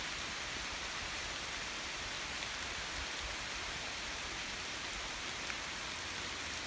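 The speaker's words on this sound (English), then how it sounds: "it's really starting to rain" Steady rain hisses continuously, a dense even patter with no breaks and no voices, moderately close.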